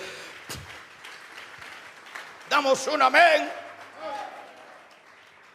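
A church congregation clapping as an offering of praise to God, a short burst of applause that rises briefly amid a preacher's voice and other voices.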